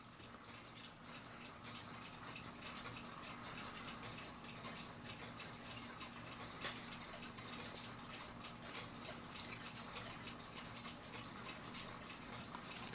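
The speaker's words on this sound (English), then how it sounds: "That's your slip clutch right there." Slip clutch and gears of the York Minster Cathedral clock built by William P. Niemeyer turn steadily, producing a quiet continuous ratcheting tick of meshing teeth, close and even throughout with no talking.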